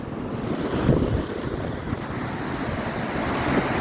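Ocean waves breaking on a rocky beach, a rough continuous wash of surf with a swell in the middle, heavy wind buffeting the microphone throughout.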